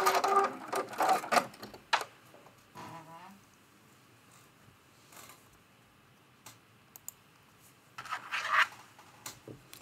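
A home sewing machine stitches and backstitches the seam of a Christmas stocking made from fat quarters, bursts of close mechanical whirring at the start and again near the end, with quiet handling between.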